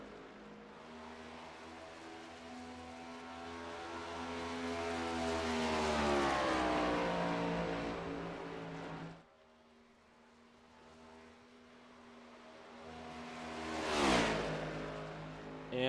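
A race car lapping Kansas Speedway in a racing game roars steadily and swells as it passes close, cuts off abruptly, then rises again into a brief loud sweep near the end.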